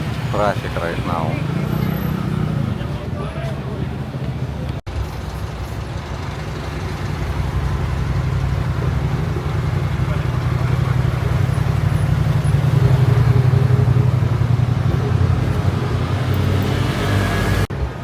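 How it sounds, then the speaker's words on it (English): Busy street traffic in Pattaya, a steady rumble of cars, buses and motorbikes passing nearby, with people talking over it at the start. "Traffic right now."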